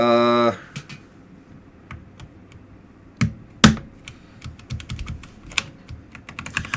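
Typing on a mechanical keyboard right after a broken switch was swapped for a spare, scattered clicky keystrokes with irregular pauses and a few louder taps, following a brief spoken word at the start.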